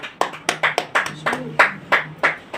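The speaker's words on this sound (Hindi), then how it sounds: "देख रहा हूँ मैं कि सारे लोग तालियों में हैं" Audience applause at a book review celebration event: a short run of brisk, fairly close hand claps at a steady rhythm, alone with no talk over it.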